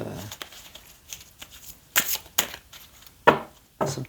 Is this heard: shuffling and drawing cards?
yes